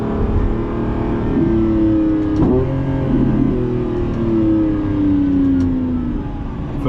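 Lamborghini Revuelto V12 pulling hard in first gear from inside the cabin, a loud, steady engine drone whose pitch climbs through the rev range, accompanied by road rumble.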